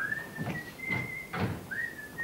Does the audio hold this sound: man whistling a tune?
yes